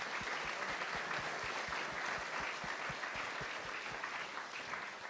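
An audience in a hall claps for a municipal council team at a review of five years of local action, with dense, sustained applause holding steady before easing slightly at the end.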